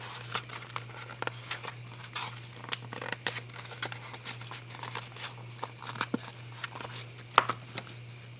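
Scissors snipping through paper during a calendar-altering craft session, a quiet, close series of short crisp cuts and crinkles repeating irregularly, with faint rustling between them and no talking.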